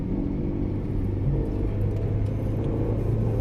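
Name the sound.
long queue of cars at a highway check post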